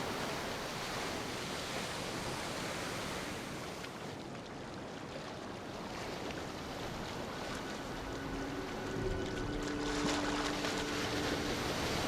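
Small sea waves lap gently and steadily on a quiet beach, a soft continuous wash with faint wind and no voices.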